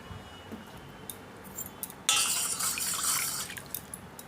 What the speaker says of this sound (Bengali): একটা পাত্রে জল নিয়েছি, সেখানটায় সামান্য একটু ভিনিগার দিয়ে দিচ্ছি।